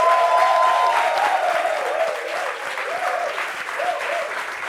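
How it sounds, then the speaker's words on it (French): Studio audience applause welcoming a guest onto a French talk show set, sustained clapping with cheering voices and music woven through, easing slightly midway. "Applaudissements pour lui."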